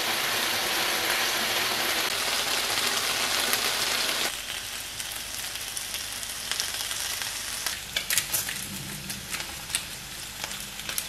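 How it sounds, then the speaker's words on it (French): Bacon slices frying in a heated pan give a loud, dense sizzle that drops to a softer, crackling hiss partway through, with sharp spits and pops near the end and no talking. "mettre d'abord les tranches de lard et ensuite de chauffer la poêle"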